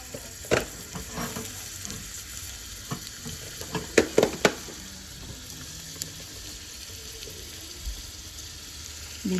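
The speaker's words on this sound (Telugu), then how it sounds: "దీంట్లో కొంచెం ఆనియన్స్ ఫ్రై చేసుకుందాం" Onions frying in hot oil for broccoli roti, a steady low sizzle punctuated by sharp knocks and clatters of a utensil against the pan, with a cluster of louder hits midway; no speech.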